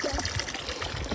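Water runs from a garden hose into a backyard waterfall, a brief, steady trickling splash heard alone.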